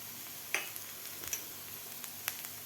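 Ginger, garlic and green chillies fry in a pan for a spicy pea curry, giving a soft, steady sizzle with a few sharp pops and spatters. No one speaks.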